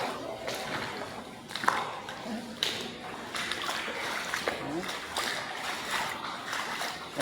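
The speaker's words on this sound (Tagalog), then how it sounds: "Ayan tubig." Water splashes and sloshes around workers soaking in it alongside wire on a rainy job, irregular bursts of splashing and trickling at close range, fairly faint, with some brief talk.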